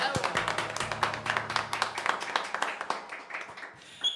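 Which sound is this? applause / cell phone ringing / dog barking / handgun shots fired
applause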